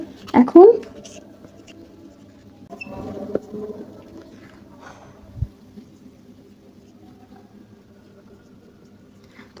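Chalk or marker strokes on a board during a physics lesson, soft scattered scratches and taps under a teacher's speech.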